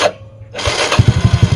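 A motorcycle with a faulty push-button starter, just repaired, cranks briefly and fires up, then settles into a close, steady, pulsing idle with a rhythmic low thump.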